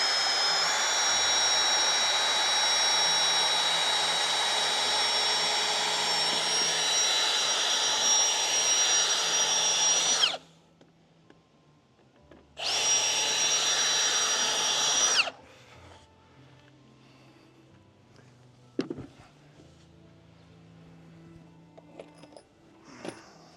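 Loud, steady whine of a Hole Hawg drill spinning a paddle bit through a deck board during a TimberTech cable rail install, running for about ten seconds, stopping, then a shorter burst, followed by quiet clatter.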